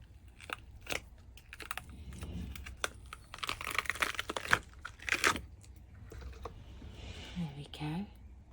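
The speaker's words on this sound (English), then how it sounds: "Just loosening all the corners off." Hardened resin coasters worked loose from their moulds, a run of close cracking clicks and crinkly flexing sounds, thickening into a dense crackle midway, while a voice talks over parts of it.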